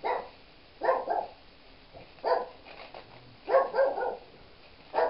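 A small dog barks in short bursts of two or three yaps, repeating about four times from nearby in a kitchen, with quiet pauses between each round.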